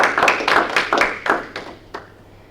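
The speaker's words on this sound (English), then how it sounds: "Let's please give our panelists a round of applause" A small audience at an academic panel discussion claps for the panelists, a few distinct, sharp hand claps in loose rhythm that thin out and fade within a couple of seconds.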